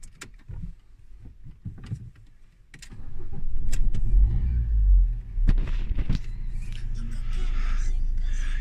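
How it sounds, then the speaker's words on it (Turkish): A Citroën Nemo's engine cranks and starts inside the car, rising into a steady low idle rumble after a few seconds of quieter handling noise. "Sen tut, ben bir aracı çalıştırayım."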